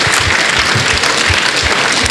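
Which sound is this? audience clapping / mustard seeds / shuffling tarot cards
audience clapping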